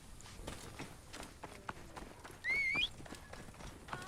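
Galloping horse ridden in Assassin's Creed Origins, a quiet, steady patter of hoofbeats running through, with a short high whistle-like tone rising midway above the rhythm.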